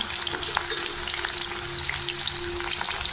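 Pieces of dry fish fry in hot oil with a dense, continuous bubbling sizzle, close and fairly loud, with no voices.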